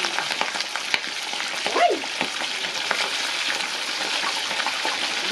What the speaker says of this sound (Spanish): Este está caliente. Pollito frito. Bien caliente.